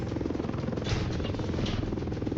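Helicopter in the Roblox game War Tycoon, a continuous rhythmic rotor thrum at steady volume, close and alone.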